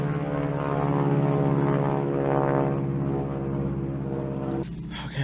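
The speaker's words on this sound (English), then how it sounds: "Helicopter's flying over." A helicopter passes overhead outdoors at the Country Poor Farm in Huntington, Indiana, its engine and rotor making a loud, steady drone that sustains through the moment before easing slightly near the end.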